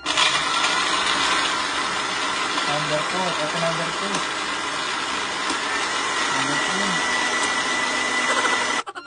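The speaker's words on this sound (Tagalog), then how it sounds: "Kasi sobrang ingay ng blender mga guys." A loud, steady motor whir of an electric blender at full speed blending carrots, with a person talking over it near the middle and end.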